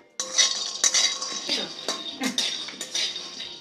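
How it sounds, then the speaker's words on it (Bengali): Peanuts roasting in a kadai over low heat, stirred with a metal spoon, giving a series of close, clattering scrapes and clinks against the pan, with a faint sizzle beneath. "কড়াতে একটু নেড়ে নেব। বাদামগুলো লো আঁচে ভাজতে হবে"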